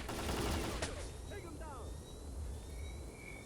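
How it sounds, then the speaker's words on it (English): Gunfire in STALKER: Clear Sky, a burst of rapid shots near the start followed by a fading rattle and distant whine, fairly quiet with a lingering background hum. "they're shooting the duty members"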